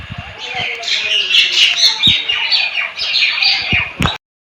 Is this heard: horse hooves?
no